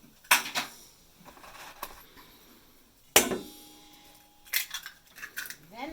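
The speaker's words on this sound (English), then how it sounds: "so break the eggs into a" Eggs for homemade egg noodles are cracked against a bowl in a few sharp knocks, close and separated by quiet gaps, with a light clink of shell or dishware between them.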